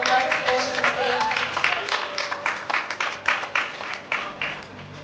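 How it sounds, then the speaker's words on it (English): An audience gives a round of applause for an award recipient at a distinguished league ceremony, with dense hand clapping that turns into rhythmic, fairly close individual claps, while a voice may be heard faintly beneath. "Round of applause. Congratulations, David."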